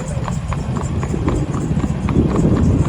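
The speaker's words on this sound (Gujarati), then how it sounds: "કાઠિયાવાડી ઘોડી છે" Steady clip-clop of a Kathiyawadi mare's hooves at a walking pace, close and prominent, with a person talking throughout.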